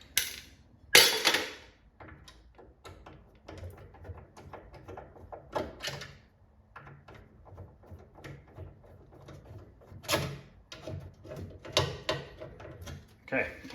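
Metal clanks, knocks and rattles from taking apart the coin door of a Bubbles arcade cabinet, irregular and close, with sharp bangs near the start and later, under intermittent faint talk.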